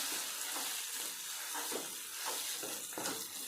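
Safflower leaves frying in hot oil, a dense continuous sizzle with soft rhythmic stirring swishes every half second or so, close and steady; no voices.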